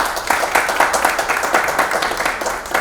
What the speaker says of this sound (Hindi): प्लीज एक बार उनके लिए ताली बजा।